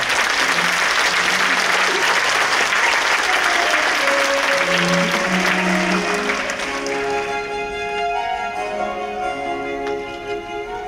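A large crowd at a mayor's inauguration ceremony in Yongin applauds loudly and steadily, the clapping thinning slightly toward the end as a low hum of voices and tones emerges beneath it.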